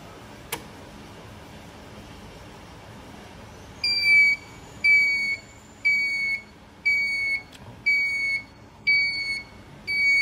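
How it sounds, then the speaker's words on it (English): Deye solar inverter alarm after the battery BMS communication cable is unplugged: after a few quiet seconds, a sharp click, then a series of loud, evenly spaced high-pitched beeps, each about half a second long, repeating roughly every second. "Ten seconds after the BMS communication net cable is disconnected, the Deye inverter alarms."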